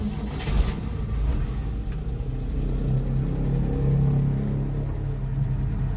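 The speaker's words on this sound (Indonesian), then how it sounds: "kita langsung nyalakan aja mesinnya Cekur Tokcer 1 kali starter" The engine of a T120 SS mini bus runs as a steady, close low rumble with slight swells in revs, after a brief starting burst at the very beginning, with no talk.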